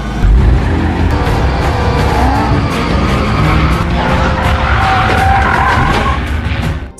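Car tires skidding and squealing during a film car chase, a loud sustained roar of engine and screeching rubber running without pause for several seconds, no voices.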